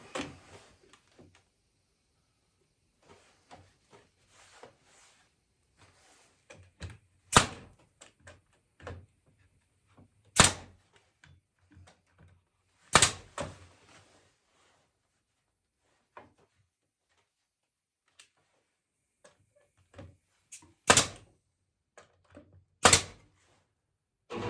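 Nails driven into a walnut rocking chair part in a woodshop, heard as sparse, sharp percussive bangs spaced several seconds apart, with faint small knocks and handling noise between them.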